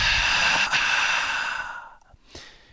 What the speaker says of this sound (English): I want you to try taking a breath and doing a long exhale like this.